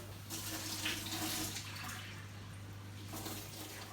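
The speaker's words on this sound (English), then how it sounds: "I'm just going to add a cup of warm water to this." A cup of warm water poured onto bloomed yeast for a potato focaccia, a faint steady trickle and splash over a low constant hum, with no talking.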